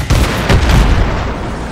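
An explosive blast in a video game, a loud, close boom at the very start that rumbles and fades across the short moment with no voices over it.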